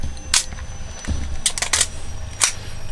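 Shutter release of a WERRA film camera from the DDR, loaded with long-expired film: a few sharp mechanical clicks near the microphone, spaced apart over a low background rumble.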